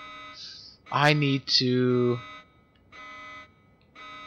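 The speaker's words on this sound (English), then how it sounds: "Okay, well, they sounded the alarm." An alarm in Syphon Filter: The Omega Strain sounds in steady, repeating tonal blasts, with someone talking loudly over the start.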